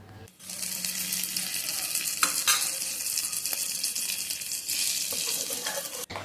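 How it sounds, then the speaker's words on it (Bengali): Jute leaves frying in mustard oil give a steady, close sizzle with occasional stirring clicks and scrapes, and no one speaks. "আর এখন ভাজবো পাট শাক"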